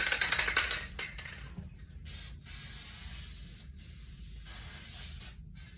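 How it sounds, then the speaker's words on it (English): Adhesive spray hissing onto the front edge of a cushion's foam, a strong burst at the start followed by several shorter spurts, close and loud, with a steady low background hum. "I'll usually also spray the front edge"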